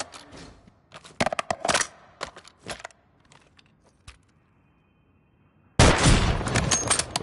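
Call of Duty MW3 gun reloading in a video game: a string of sharp mechanical clicks and clacks of varying loudness, a quiet pause, then a loud sustained burst of gunfire or blast noise filling the last second and a half.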